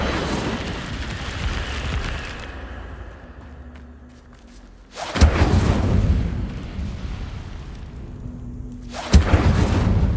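The fire spell Incendio in Hogwarts Legacy, cast twice as loud whooshing bursts of flame, each roaring up suddenly and then fading out.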